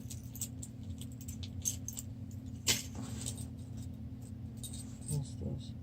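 Keys jangling and clinking as they are set down while a pocket is emptied, a few close metallic rattles with one sharper clack amid soft handling noises.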